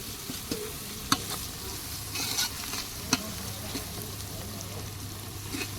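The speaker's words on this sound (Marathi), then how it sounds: "आता थोडा कांदा शिजत आलेला आहे" Onion and curry leaves fry in a hot pan with a steady close sizzle, with occasional stirring clinks and scrapes throughout, and no talking.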